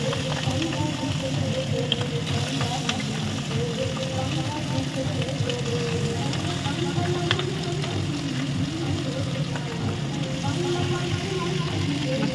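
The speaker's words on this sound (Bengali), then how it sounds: "মাছগুলোকে এইভাবে লাল লাল করে ভেজে নেব।" Pabda fish fry in hot oil with a loud, dense, continuous crackle and sizzle that holds steady throughout, close up, with a voice speaking over it at times.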